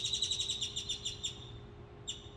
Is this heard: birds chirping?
yes